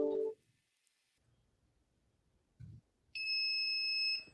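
A pill dispenser's alarm goes off with a loud, steady high-pitched electronic tone that lasts over a second after a short buzz and a quiet gap.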